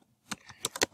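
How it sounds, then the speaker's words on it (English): A few separate keystrokes on a computer keyboard, entering data into a spreadsheet cell, sounding close and crisp against a quiet background. "if you were to start typing in the first cell"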